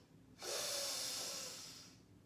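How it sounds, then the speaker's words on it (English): A single long breath drawn in through the left nostril during Nadi Shuddhi alternate-nostril yoga breathing, a steady, close airy hiss lasting about two seconds that swells and then tapers, with no talking. "I'm going to inhale and exhale through the left nostril"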